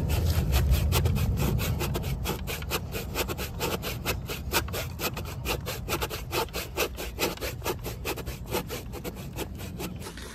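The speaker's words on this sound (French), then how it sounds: "C'est une scie à bois pour couper du bois." A hand saw rasps through wood in a steady, rapid back-and-forth rhythm, close and continuous with no talking.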